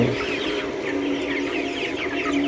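A flock of 25-day-old broiler chickens clucking and murmuring continuously, many birds close by, with a steady low background hum.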